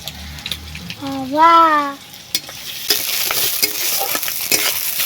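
Egg fries in a pan in a village kitchen, with a brief voice-like tonal sound early on, then a close, steady crackling sizzle that builds and continues to the end.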